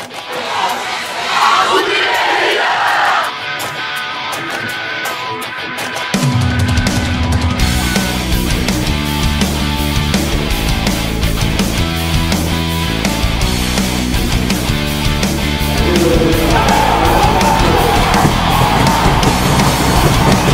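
Crowd of ice hockey fans at a university match, Jihočeská univerzita against VŠTE, chanting and cheering loudly, first amid arena noise, then backed by a steady rhythmic drumbeat and music for most of the stretch.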